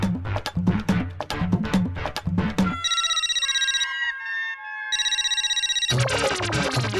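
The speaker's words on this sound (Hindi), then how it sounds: "भिड़े भाई फोन क्यों नहीं उठा रहे?" A telephone rings in repeated electronic bursts with a pause between rings, loud and close, and nobody picks up; voices come before and after.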